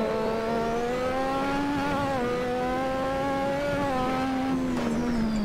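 Lotus 98T turbocharged Formula One car in Assetto Corsa at Spa-Francorchamps, engine holding a loud, steady high-revving tone with small pitch dips between shifts and a turbo whine above, close and continuous with no voices.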